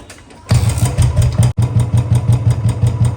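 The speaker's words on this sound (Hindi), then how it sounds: "अब पहले मैं बाइक को स्टार्ट कर लेता हूँ।" A Royal Enfield Bullet Standard 350 motorcycle engine turns over and catches, then settles into a steady, loud, close idle with a regular pulsing beat and a brief cut.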